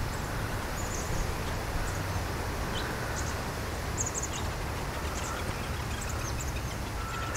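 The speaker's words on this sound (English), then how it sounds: "Little birds talking to each other." Small birds chirp back and forth on an outdoor walk, brief high twitters scattered over a steady hiss of outdoor background noise.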